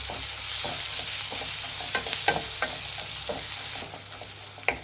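Onions fry in a pan for mango rice while a spoon scrapes and stirs in repeated strokes over a steady, close sizzle, with no talking.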